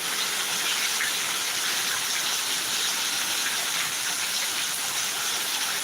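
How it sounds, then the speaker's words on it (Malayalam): Heavy summer rain pours down at night in a steady, unbroken hiss that stays even and close throughout, with no voices. "നല്ലൊരു കിടില മഴ തന്നെയാണ് അടിപൊളി മഴ"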